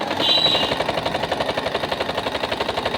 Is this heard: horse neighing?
no